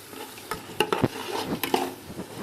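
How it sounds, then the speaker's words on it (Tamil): Rice and masala for Ambur biryani being stirred in a pot, a series of close scraping and clinking strokes with a soft sizzle underneath, no voices. "எல்லாத்தையும் சேர்த்து கலந்து விட்டுக்கலாம்"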